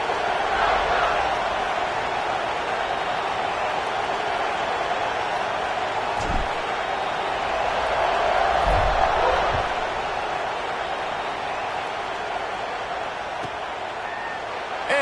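A football stadium crowd before kickoff makes a steady, loud roar that swells briefly in the middle, with a few thuds and a commentator's voice over it.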